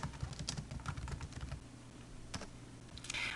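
Fingers type on a computer keyboard while entering a variable label in SPSS, producing a quiet, steady run of soft key clicks close by, with no voices.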